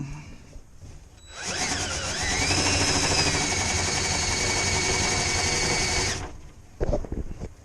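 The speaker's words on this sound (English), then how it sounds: "Tighten the drill and start back down here again." A power drill whirs up to speed after a quiet start, holds a high steady whine for several seconds, then cuts off, followed by brief clatter.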